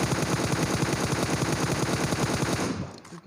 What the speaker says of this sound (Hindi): फिर मैं इस पर फायर करता हूँ, M4 की गोलियाँ ख़त्म करता हूँ।